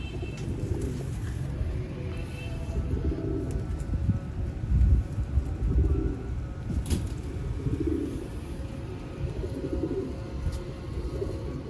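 Champion bloodline pigeons coo in low, soft rolling pulses, repeating steadily at close range over a faint background murmur.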